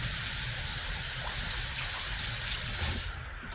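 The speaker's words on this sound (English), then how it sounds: "let me just quickly wash my hands" Hands washed under a running kitchen tap, with a steady loud gush of water that continues throughout and eases slightly at the end.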